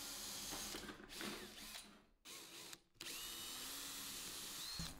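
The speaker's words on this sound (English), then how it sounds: "then I can drill some pilot holes" A power drill bores pilot holes into a brass guard during a planer restoration, running as a steady close whine with brief pauses and dips, with no talk.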